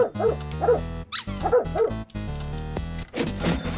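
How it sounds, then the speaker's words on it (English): A dog in the stealth video game Mini Thief barks and yips in short repeated bursts, with a whimpering tone, over steady game music. "it was a dog"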